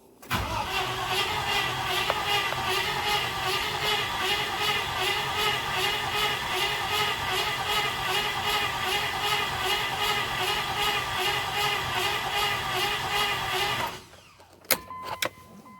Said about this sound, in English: Whenever it takes more than a couple of cranks to get oil pressure, I get nervous.